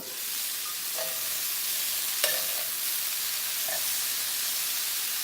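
Cauliflower roasting in butter in a pan, a loud, steady sizzle and hiss running throughout, with a few faint spatula taps.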